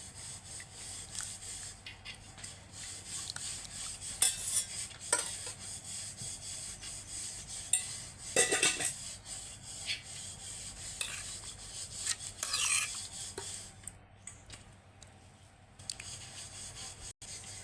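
A spoon stirring village-style bottle gourd raita in a bowl: continuous soft rubbing and scraping close by, with a few louder clinks and scrapes along the way.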